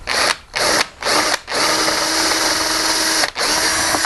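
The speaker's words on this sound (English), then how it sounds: "So I'll just go ahead and I'll drill this hole." A power drill whirs steadily in several bursts, briefly stopping and restarting before a long continuous run as it bores a hole for a half mortise lock, loud and close.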